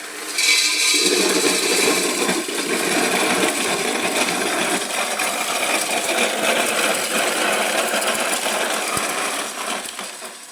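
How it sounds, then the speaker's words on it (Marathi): A flour mill (chakki) grinds native chickpeas into split dal, starting up and running in a steady, loud rattling whir with dry gritty clatter. It fades slightly near the end, with no talk. "यामध्ये आता वतून घ्यायचं आहे आणि चक्की चालू करून घ्यायची आपल्याला"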